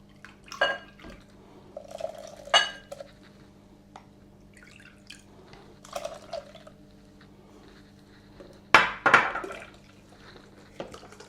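Garlic being washed in water: a few scattered splashes and drips come in short bursts separated by quiet gaps, close and fairly soft, with one louder splash near the end.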